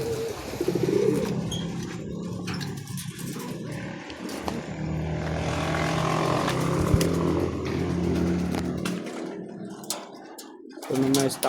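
Stock breeding pigeons coo in a loft, low repeated cooing calls close by, mixed with rustling and an engine passing in the background.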